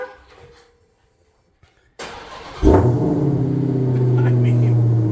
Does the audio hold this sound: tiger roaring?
no